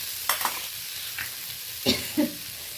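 Mushrooms hit a pan of frying vegetables, a low sizzle broken by a few scraping stirs and soft thumps of the spatula, close and moderately loud.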